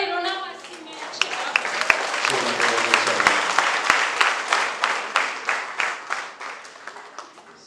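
A worship gathering applauds in praise of God. Scattered clapping swells into loud rhythmic hand-claps in steady, distinct beats, with a voice heard at the start.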